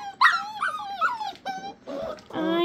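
Small puppies whimper and yip in a run of high, wavering cries, close by, with brief pauses between the whines.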